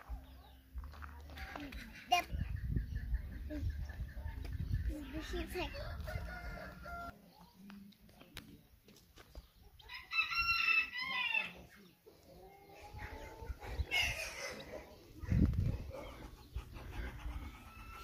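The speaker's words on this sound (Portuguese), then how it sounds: "Esse galo" A rooster on a countryside farm in Goiás, Brazil crows once in the middle, with scattered clucks and other farmyard noises, while people talk nearby.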